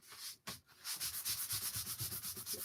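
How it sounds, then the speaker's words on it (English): Rapid rhythmic scratching of sandpaper rubbed back and forth over a surface, close and fairly quiet, after a couple of brief scrapes. "We're sanding it down a little bit more."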